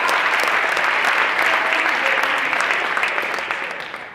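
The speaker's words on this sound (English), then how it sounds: "You can applaud for them" Steady applause from a banquet audience at a varsity and JV football awards night, dense clapping that holds strong before gradually tapering off.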